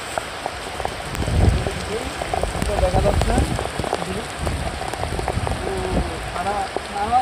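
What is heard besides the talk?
rain falling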